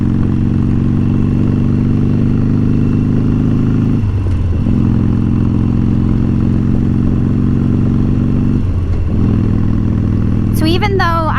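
Engine noise from a motorcycle being ridden holds steady and loud, with two brief dips as if shifting gears. A voice is heard near the end.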